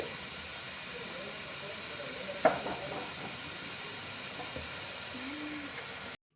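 A pressure cooker brewing tea on a home stove releases a continuous, close hiss of escaping steam that carries on steadily, broken by a single sharp click partway through, then cuts off at the end.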